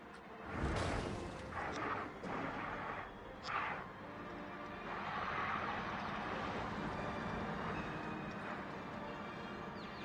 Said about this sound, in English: these explosions are huge.